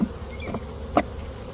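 Honey bees in an open hive during an autumn inspection, a faint close buzzing hum with a couple of brief louder passes.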